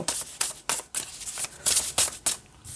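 Tarot cards on flexible cardstock being shuffled by hand, close and crisp, in about eight quick riffling bursts with brief gaps between them.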